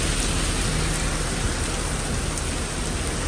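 Heavy rain pours down steadily, a dense continuous hiss with no pauses.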